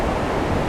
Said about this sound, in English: Now we're up higher, just checking out the river